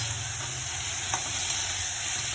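Dried red chilies and whole spices such as cumin, coriander and ginger crackle in hot oil as a tempering, a loud, steady close-up sizzle with a faint clink partway through.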